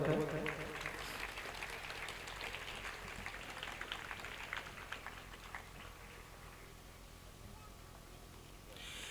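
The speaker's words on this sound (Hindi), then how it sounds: "बच्चों के हौसले के लिए थोड़ा सा तालियों की जरूरत है।" Faint scattered applause from the audience at a school prize distribution ceremony, light patter of hands that thins out over nine seconds, with a voice audible in the background.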